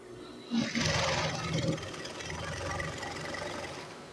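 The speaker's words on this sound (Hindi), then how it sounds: "ये मैं आपके सामने सिलाई लगा रहा हूँ।" Sewing machine stitching a ladies' trouser, a steady close mechanical whir running continuously for several seconds after a brief start, with no talk over it.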